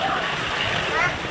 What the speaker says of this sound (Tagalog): Malakas yung mga impact ng tubig guys